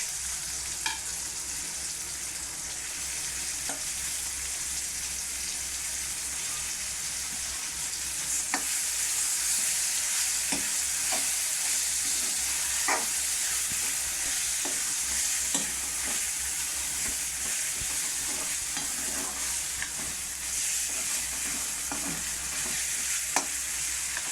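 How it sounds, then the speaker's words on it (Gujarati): Bhopatri greens stirred into a pan of frying tomato and garlic, giving a steady close sizzle throughout with scattered scraping stirs of the spoon, no voices. "તો ટમેટું લસણ પાકી ગયું છે, તો હવે આપણે એમાં ભાજી નાખી દેવાની છે"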